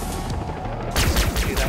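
Rapid gunfire aimed at a helicopter pilot in Far Cry 3 Blood Dragon: a muffled stretch, then a sharp burst of close, quick repeated shots with loud rotor-like rumble underneath.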